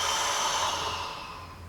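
A long, steady exhale through the mouth or nose during a serratus anterior shoulder exercise, close and soft, fading gradually toward the end.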